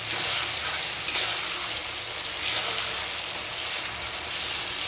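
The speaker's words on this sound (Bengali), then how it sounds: "পেঁয়াজটা মোটামুটি ভাজা হয়ে গেছে, এবার বাটনাটা দিয়ে দেবো" Spice paste dropped into a pan of frying onions for a Bengali mutton curry, sizzling loudly and steadily throughout with a dense hiss and crackle, no voices.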